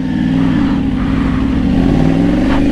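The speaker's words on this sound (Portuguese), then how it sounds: "Olha o escape como ficou." A motorcycle with a modified exhaust revving hard, a loud, close, sustained engine drone with a rising pitch and no speech over it.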